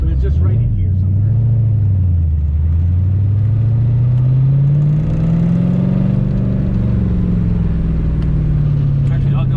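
A Dodge Daytona GT on its first drive, with a loud, close, low engine drone that rises and falls in pitch as the car accelerates and eases off, over a constant road rumble.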